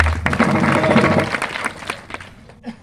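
Applause from an audience at a kirtan gathering, a dense burst of many hands clapping at once that stays steady, then thins out and fades toward the end.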